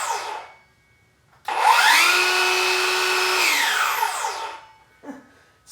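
A RYOBI P508 brushless 7 1/2-inch circular saw spins up with a sharp rising whine, runs steadily for about two seconds, then winds down fast as the electric brake stops the blade; loud and close, with no talking.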